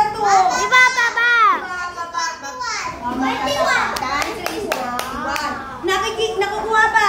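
A class of young children in a grade one subtraction lesson clap their hands in a scattered burst while high childish voices chatter and call out over it, with a second round of clapping toward the end.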